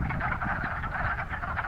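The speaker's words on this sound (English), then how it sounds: "these woodland frogs come out to these temporary ponds and start these little breeding frenzies" Wood frogs croak in a dense breeding chorus at a temporary woodland pond in spring, a continuous overlapping clucking heard at close to moderate distance, with no talk.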